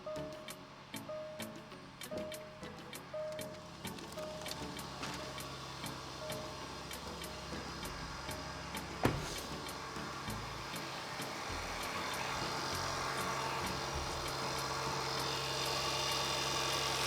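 Jaguar 3.0L supercharged engine after a water pump replacement, with steady ticking, then a sharp start-up burst and a settled, even idle hum that grows fuller toward the end.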